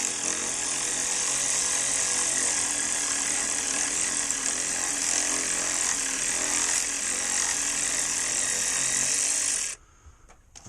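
A power tool, likely an impact gun, runs a 13mm battery release bolt out on a Chevy Impala: one loud, steady high whirring drone for nearly ten seconds, then it cuts off abruptly.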